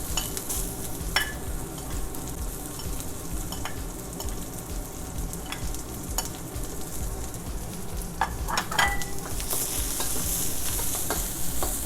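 Ginger and onion hit a very hot wok of oil, giving a steady, bright sizzle punctuated by sharp metallic scrapes and taps of stirring, the hiss swelling louder near the end, no voices.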